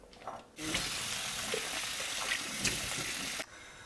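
Baby potatoes being washed under a running kitchen tap: a steady splashing rush of water that lasts about three seconds and then stops abruptly.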